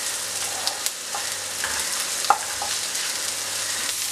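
Dried red chilies, onion and garlic fry in a pan for a Kerala-style king fish curry, giving a steady broadband sizzle with a few small pops and stirring clicks, close and alone with no talk.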